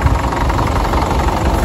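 A Fordson Dexta tractor engine idles steadily and smoothly up close, a continuous low diesel rumble with a slight knocking texture throughout and no voices.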